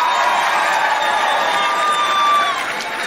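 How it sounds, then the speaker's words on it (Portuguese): A stand-up comedy crowd applauds and cheers a volunteer at a live show, producing a loud, steady wash of clapping and whoops. "Palmas para Paulo"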